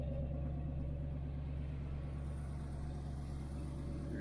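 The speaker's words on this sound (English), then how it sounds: "Just love the sound of the exhaust on this." A 1968 Chevelle Nomad idles with a deep, steady exhaust rumble, low and throbbing, close up and unbroken with no voices.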